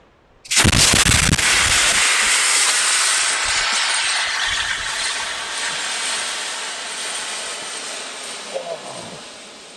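A loud, steady blast of high-pressure air rushes out of a Decathlon inflatable paddleboard after a sharp onset, hissing continuously and slowly easing off over several seconds.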